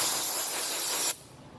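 Air hisses from the hose of a truck's tire inflator compressor, a loud steady close rush that cuts off abruptly after about a second, leaving quiet background.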